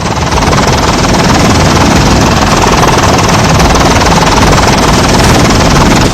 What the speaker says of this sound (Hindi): यूबा नदी के ऊपर एक हेलीकॉप्टर उड़ रहा है